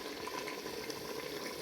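Water heating in a pot for a white chickpea curry gives a steady low bubbling hiss with faint sizzling, continuous and fairly quiet close by.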